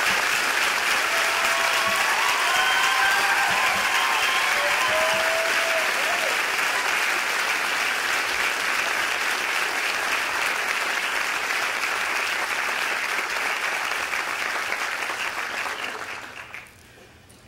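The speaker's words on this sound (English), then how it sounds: "a round of applause" A large undergraduate commencement audience gives sustained applause for parents, faculty and loved ones, a broad continuous roar of clapping that carries on for over fifteen seconds before tapering off, with faint voices mixed in.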